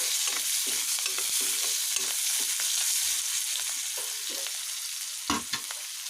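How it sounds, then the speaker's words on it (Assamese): Onions frying in a little oil, stirred with a spatula: a constant loud sizzle with soft, regular scraping strokes beneath it and one sharper knock near the end. "পিঁয়াজখিনি ভালকৈ লৰাই ল'ম।"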